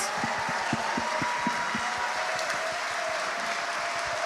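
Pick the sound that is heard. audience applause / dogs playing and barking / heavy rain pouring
audience applause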